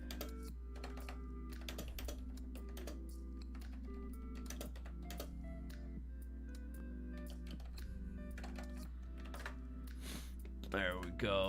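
Someone types on a computer keyboard during a live stream, producing a steady run of close, crisp key clicks with brief pauses, over a constant low background hum.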